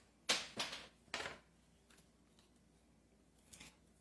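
A flower stem being cut for a vase arrangement, with a few close, crisp snips and clicks of the cutting tool. They come in a quick cluster, then a faint snip after a pause, in a quiet room.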